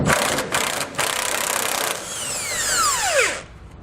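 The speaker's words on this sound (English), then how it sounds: "We'll hold the top of it with a 21 and remove the nut with a 21 also." A power tool spinning a nut off a trailer hitch bolt on a 2012 GMC Sierra, a loud whirring burst that breaks off twice, then a long whine winding down.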